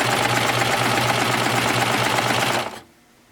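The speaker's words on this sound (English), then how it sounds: "So now I just sew all the way." A sewing machine runs steadily while it stitches a ruffled skirt seam, a loud close mechanical whir that carries on evenly, then cuts off near the end.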